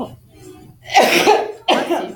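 A sneeze bursts out loud and close, followed moments later by a second sharp burst, with a brief word spoken just before in an indoor yoga teacher-training session.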